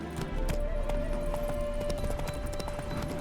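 The horse Roach moving in The Witcher 3, steady hoof clip-clop over a low rumble of ambient game sound, fairly close and continuous, with a faint steady tone running underneath.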